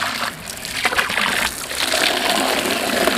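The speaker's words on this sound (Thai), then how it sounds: "เติมน้ำก่อนนะครับ" Water poured into a betta fish breeding tank, a continuous close splashing gush that rises and falls slightly throughout.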